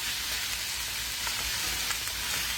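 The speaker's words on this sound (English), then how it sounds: "I'm frying my beans." Beans frying in a pan for hamburger steak and tomato gravy give off a steady, close hiss of sizzling with faint crackles throughout, no voices.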